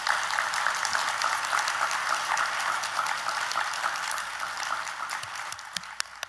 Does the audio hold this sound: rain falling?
no